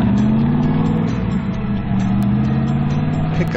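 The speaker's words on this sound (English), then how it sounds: "Minivan." Steady engine hum of a minivan running close by, a low drone with slight pitch shifts and no voices.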